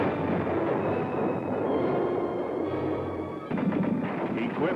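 An M60 Patton battle tank fires its 105mm cannon, giving a dense, roaring blast-filled din with a sharp fresh burst near the end, loud and without talk.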